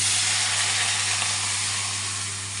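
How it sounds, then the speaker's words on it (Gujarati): A steady, bright hiss of hot oil sizzling as asafoetida and turmeric are added to temper buttermilk, continuous and close, with no talking over it. "થોડી હિંગ નાખશું થોડીક હળદર નાખશું અને આ છાશનો વઘાર કરશું"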